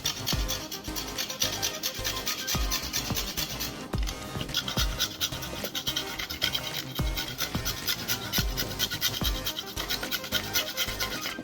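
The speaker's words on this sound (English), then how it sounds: "just grate the carrots and the onion right into the bowl" Carrots and onion are rubbed against a fine grater into a bowl, giving close, rhythmic rasping strokes that repeat steadily without pause.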